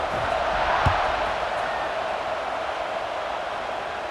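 Broad, steady roar of a stadium crowd in the College Football 26 video game before kickoff, sustained at even loudness with a brief louder swell near the start.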